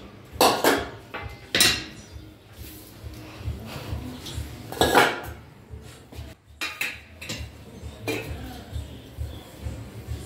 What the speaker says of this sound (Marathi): निवडून झाल्यावर हिला बारीक चिरायची।